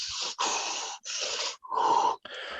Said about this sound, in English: Let me fat man breathe right into my mic right now.